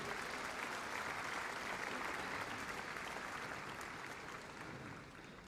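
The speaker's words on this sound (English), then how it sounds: "Big round of applause for John and Rory." At the Crufts 2024 dog show, spectators break into a steady round of applause during a dog activities display. It sounds faint and distant, an even hiss of clapping that eases slightly at the end.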